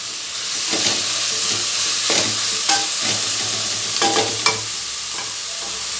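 Drumstick gojju base fries in a pan with a steady sizzle, broken up by repeated scraping and stirring strokes of a spoon against the metal.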